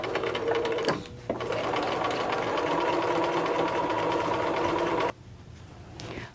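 Sewing machine stitching a raglan sleeve seam, a steady fast whirring run close by with a short pause near the start and a stop near the end.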